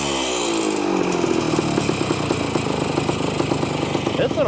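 A 1973 ATMX motorcycle's small engine revs hard and close, a loud buzzy two-stroke drone rising steadily in pitch with a rapid rattling pulse throughout.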